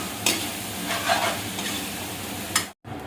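Chopped onions sizzle in hot oil in a pan, the first step of an Assamese duck curry. A spoon stirs them with a few sharp scraping strokes over a steady, close frying hiss.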